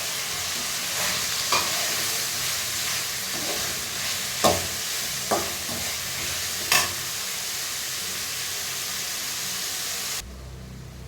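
Onions sauté in a pan for a cauliflower curry, giving a continuous close sizzle with several distinct clinks and scrapes from stirring, and the sizzling cuts off abruptly near the end.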